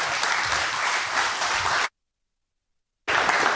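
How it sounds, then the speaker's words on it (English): An audience claps loudly and steadily to welcome a speaker at an event, followed by a sudden total silence, then the clapping resumes. "please welcome him with a very loud applause"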